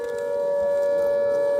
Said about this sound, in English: The warning sirens sound.